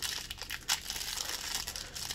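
The plastic wrapper of a McDonald's 25th anniversary Pokémon card pack is worked at and torn. It gives a continuous close crinkling and rustling with several sharper crackles along the way.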